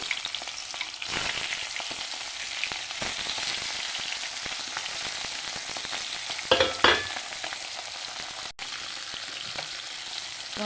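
Tangra fish fry in hot oil with a continuous, even sizzle at close range, interrupted briefly by a couple of louder spatters and a scrape partway through.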